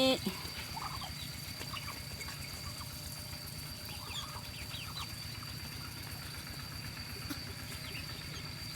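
Farmyard fowl at a rural home call in dense, overlapping squawks and gobbling-like chatter, a steady flock heard at a distance, faint overall and without talk.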